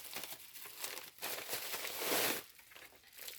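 Packaging crinkles and rustles up close as a parcel of scrapbooking supplies is unpacked. The crackling comes in short bursts of handling and swells briefly in the middle, faint overall and with no speech.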